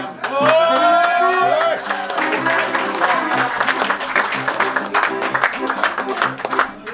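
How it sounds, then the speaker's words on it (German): A live audience at a Viennese song (Wienerlied) concert breaks into sustained applause mid-song, dense and steady clapping over a sung phrase and accompanying instruments, with the crowd noise filling the room throughout. "Das ist ein Lied mit Zwischenapplaus"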